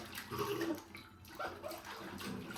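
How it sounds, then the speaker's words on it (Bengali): Water is poured over a child's head during a bath, a brief, fairly quiet splash and trickle heard alone. "দাঁড়াও, মাথা দিই পানি।"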